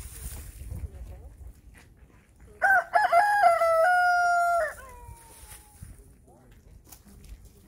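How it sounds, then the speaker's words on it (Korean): A rooster crows once, loud and fairly close, a long drawn-out call over rustling outdoor background noise. "저것도 수탉인데 하얀 쪽"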